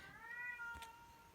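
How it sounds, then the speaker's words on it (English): A pet cat gives a single drawn-out meow that bends downward in pitch, fairly close and quiet in a calm indoor room, with a short soft rustle near the end. "That's my cat."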